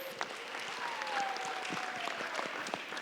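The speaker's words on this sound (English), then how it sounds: "Let's give them a round of applause, please." A career panel audience gives a soft, steady patter of applause, distant and fairly faint, with a faint tone running through the middle.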